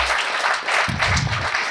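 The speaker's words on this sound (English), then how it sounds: "A big round of applause for Appa." Guests at a book launch for The Sales Algorithm give a short burst of applause, dense and even clapping with a low rumble of the crowd joining in partway through.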